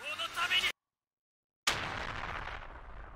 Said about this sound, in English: I thought that explosion was going to be a lot bigger.